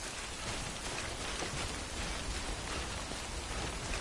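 Steady rain pours in the video game Death Stranding, a dense, even hiss of drops filling the whole stretch with no voices.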